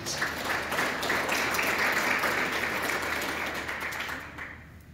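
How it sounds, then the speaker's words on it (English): A conference audience at a blueberry production event gives a sustained round of applause, steady and full for about four seconds before tapering off near the end. "round of applause, please."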